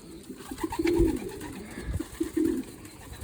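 A female pigeon coos in soft, low rolling calls at a moderate distance, with a few brief rustling thumps that fit wings as she takes off. No voices are present.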